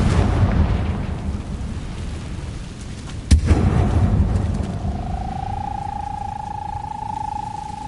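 A Confringo fire spell explodes in Hogwarts Legacy with one sharp, loud blast partway through, set against a continuous rumbling game din, after which a steady tone lingers.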